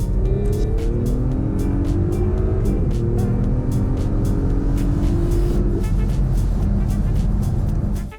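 A 2017 Audi SQ5 V6 diesel SUV accelerates hard from 30 to 70 mph, its engine note rising steadily and loudly through the gears with a brief dip at a shift, heard close from inside the cabin.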